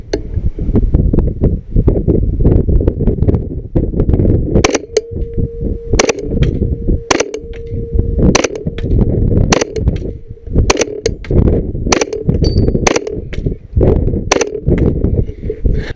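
Subsonic and supersonic rifle rounds fired outdoors at a moving target, a series of sharp cracks spaced a second or so apart over steady wind noise, with faint distant impact sounds.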